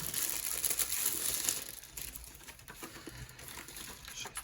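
Festive packaging printed with little stars is crumpled and torn open by hand, a quiet close-up run of crinkles and rustles that is busiest at the start, then sparser, with no talking.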